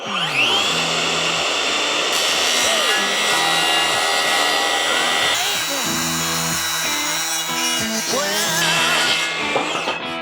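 A SKIL 3571XP cordless circular saw cuts through wood with a loud, continuous whine that shifts pitch under load for about ten seconds, close up.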